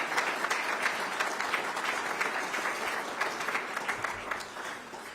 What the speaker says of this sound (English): I think we all owe him a round of applause for the work that he did to make this happen.